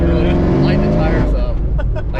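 A 2004 Ford Mustang Mach 1 V8 revs loudly during an attempted burnout, a deep steady engine roar close up with someone talking over it.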